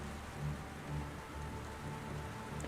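Steady rain patters continuously at a moderate, even level, a dense wash of drops with no voices or other sounds.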